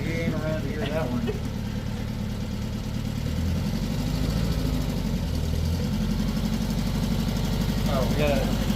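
A 1960 Volkswagen Single Cab engine runs steadily at a low, rumbling idle-like pace through the whole stretch, with people talking over it at moments.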